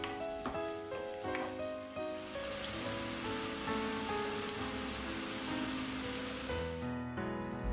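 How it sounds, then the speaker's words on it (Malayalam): Thinly sliced onions sautéing in oil over a medium flame, a soft, even sizzle with light stirring scrapes and clinks early on, continuing steadily before cutting off near the end. "ഇനി ഇതിലേക്ക് 2 സവാള ചെറുതായിട്ട് കനം കുറഞ്ഞ് സ്ലൈസ് ചെയ്തത് ചേർത്ത് കൊടുക്കണം. ഒരു മീഡിയം ഫ്ലെയിമിൽ സോട്ട് ചെയ്തെടുക്കുക."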